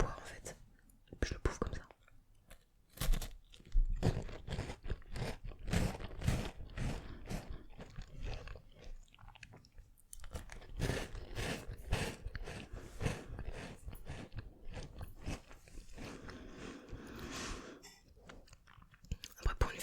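Close-up crunching of a crisp chocolate biscuit, repeated sharp bites and chewing in an irregular rhythm, intimate and near, with soft whispered talk woven between the crunches.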